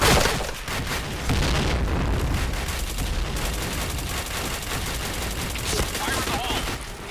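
Dense, continuous gunfire and booming grenade blasts from a shooter video game keep up a loud, chaotic barrage throughout, with no clear pauses.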